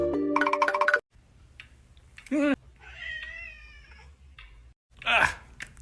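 A wet cat meows after being soaked, with a couple of short, rising cries standing out clearly between stretches of people talking and a brief tonal chime at the start.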